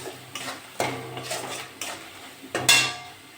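A spatula scrapes and knocks against a pan while cumin powder, salt and spices are stirred for a taro greens dish: about five close, irregular clattering strokes roughly half a second to a second apart, with no talking.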